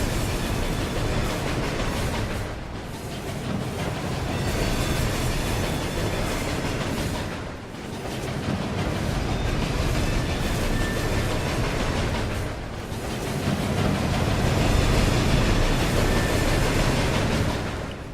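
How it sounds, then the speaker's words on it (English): A train rumbling past in the Murdered: Soul Suspect video game, a long, loud, continuous roar of rolling wheels with rhythmic clickety-clack and brief dips every few seconds as cars pass, heard alone without talking. "Train comes through the top as well"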